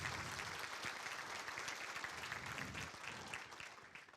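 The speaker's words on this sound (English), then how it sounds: "Nice round of applause for those past Penguins." Steady round of applause from a banquet audience at a university football scholarship ring dinner, a dense continuous wash of many hands clapping at a distance, fairly faint and even throughout.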